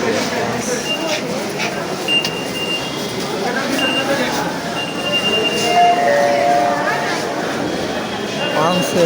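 A metro train stands at a busy station platform on a holiday, with a steady rumble and rail noise, brief squeals and tones, and someone talking over a crowd.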